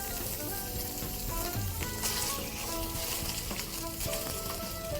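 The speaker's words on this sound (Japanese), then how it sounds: "鴨の皮をフライパンで焼いて余分な油を落としていきます" Steady sizzling of duck skin frying in a hot pan over medium-high heat, a continuous crackle with occasional pops, fairly close and without any talking.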